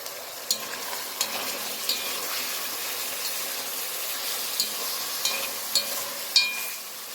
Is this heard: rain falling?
no